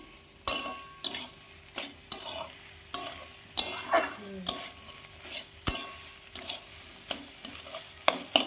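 Repeated scraping strokes of a utensil stirring food in a pan, with a steady sizzle of frying underneath, in an uneven rhythm of about one stroke per second.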